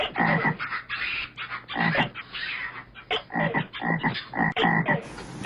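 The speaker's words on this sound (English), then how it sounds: "a perfect soundtrack of nature at night with geckos, frogs, and gibbon sounds" Frogs croak repeatedly in bursts of rasping calls, close and fairly loud, with brief pauses between the choruses in a quiet night setting near Halong, alongside geckos.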